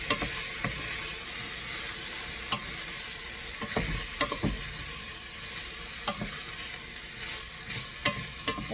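Rice for broccoli risotto frying in a pan as it is stirred, a steady close sizzle broken by repeated scraping and knocking strokes of the spoon.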